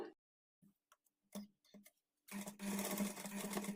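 A sewing machine stitches the double-folded bottom hem of a front-slit designer kurti, starting with a few short, separate bursts and then running steadily and close for the last second and a half.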